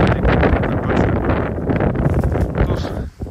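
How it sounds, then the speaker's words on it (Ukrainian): Strong gusting wind in the Carpathian mountains buffets the microphone with loud, uneven roaring bursts and rustling, then briefly drops away near the end. "як бачите, сильний вітер."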